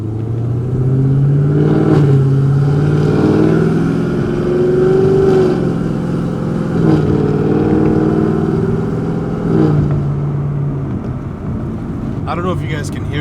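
A 900-horsepower Chevrolet Camaro ZL1 drives along on new tires, its engine droning loud and close with rising and falling revs through shifts.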